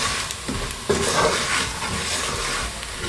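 Meat coated in pilau spices stirred in a hot pot, giving a steady close sizzle with scraping spoon strokes and a sharper clatter near the start, no voices.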